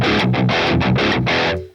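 Electric guitar played through a Tube Screamer pedal used as a boost into a Boss Katana Mk2 amp, dishing out five chugging, overdriven chords in a quick rhythm before ringing out, loud and close.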